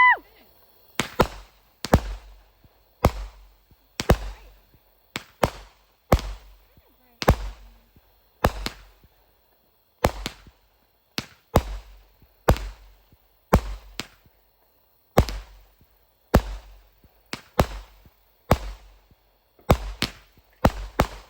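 A Metal Dino 20-shot firework cake fires outdoors at a Fourth of July show, sharp loud bangs in a steady rhythm about every second, some doubled, with quiet gaps between and occasional voices.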